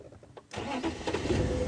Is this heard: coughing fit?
no